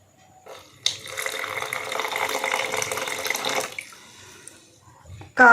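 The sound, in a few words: pouring a cup of water into chapati flour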